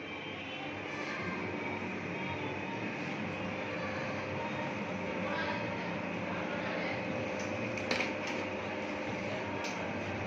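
An electric mixer beats chocolate muffin batter with oil at slow speed. A steady, even motor drone holds for the whole stretch with no break, plus a faint clink near the end.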